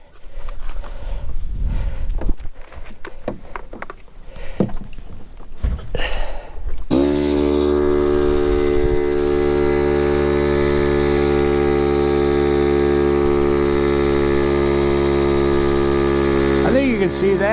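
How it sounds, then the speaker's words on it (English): Small air compressor starts up after a stretch of handling noises and runs steadily and loud, pressurizing a shower water container through a spigot cap, its strong motor hum holding constant to the end. "And now I'm going to turn on the compressor."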